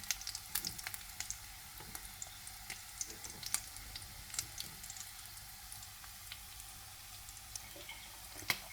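Leftover lumpia frying in a pan for lunch, a quiet steady crackle with scattered sharp pops and spits over several seconds, fairly faint and without speech.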